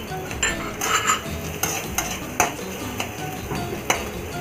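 Green chillies and grated ginger sizzle in a hot pan as an ingredient for crispy chilli chana, a steady frying hiss broken by a few sharp clinks of a utensil against the pan.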